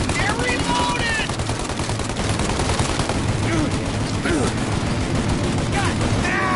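Heavy gunfire in a Mafia Definitive Edition shootout, with dense bursts of automatic fire and shots overlapping continuously, loud and close, with voices shouting among the shots.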